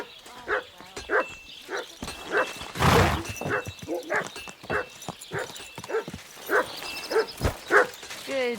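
A dog barks repeatedly in Kingdom Come: Deliverance 2, a string of sharp, evenly spaced barks with a louder burst of noise partway through and some game sounds around them.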